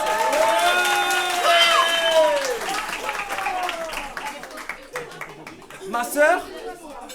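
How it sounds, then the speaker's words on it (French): At a stand-up comedy show, a crowd applauds and cheers with whoops while a voice talks over the start; the clapping swells toward the end, fairly distant and diffuse. "applaudissez-vous pour votre qualité sexuelle"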